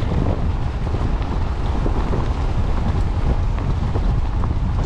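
Wind blasting into the microphone while cycling on a 100-mile Glasgow to Edinburgh ride, a constant loud roar and buffeting with no pauses.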